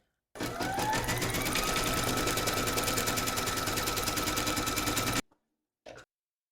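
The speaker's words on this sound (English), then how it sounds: "Pop your hoop into your machine and stitch round number 1" An embroidery sewing machine stitches a placement outline for a gift card holder in a fast, steady mechanical chatter lasting about five seconds, stopping abruptly, then a brief clunk.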